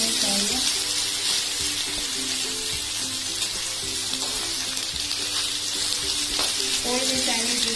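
Vegetable chowmein stir-frying on a high flame, a loud continuous sizzle with frequent scraping and tossing sounds close up, steady from start to finish, with a voice faintly underneath at times.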